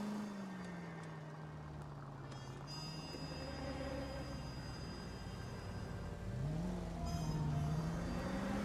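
A car engine hums and whirs steadily in the video game L.A. Noire, its pitch sliding down and climbing again as it speeds up, without any talk.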